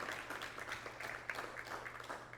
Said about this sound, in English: One more round of applause for Gabe